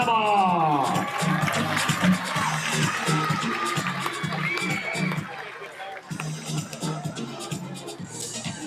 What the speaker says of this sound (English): Keep your applause coming for our 14-year-old